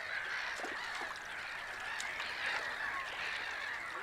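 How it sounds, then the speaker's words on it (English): Mute swan calling across wetland in Poland, a run of repeated nasal honking notes, moderately distant and steady, with overlapping calls from other waterbirds. "The biggest bird in the region is the mute swan."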